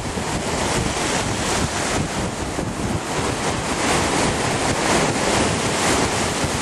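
Ocean surf rolls in at Miramar Beach in Destin, a constant broad wash of breaking waves mixed with heavy wind buffeting against the microphone, with no voices.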